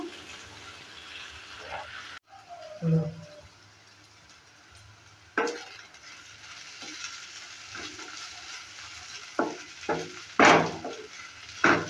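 Spring onion stalks frying in a pan for an egg and spring onion bhaja, with a soft, steady sizzle broken by scattered scrapes and knocks of a spatula as they are stirred.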